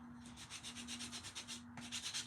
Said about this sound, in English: I'm just using a detail sander. It's a Gator detail sander.